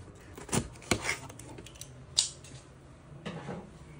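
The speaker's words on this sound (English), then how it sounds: "Let me get some scissors because I can't find my knife." Scissors snipping at the tape of a shipping box of PSA graded cards, a few sharp close clicks and cuts spaced irregularly with quiet gaps between.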